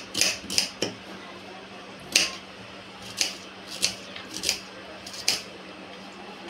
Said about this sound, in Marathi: तर गाईस आपला कांदा कापून झाला आहे